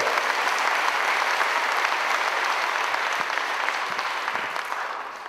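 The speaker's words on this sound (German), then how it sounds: "Und jetzt einen großen Applaus" Steady, full audience applause at a 2004 Christmas fairy-tale gala at Kloster Und, a dense roar of clapping that holds for several seconds and tapers slightly at the end.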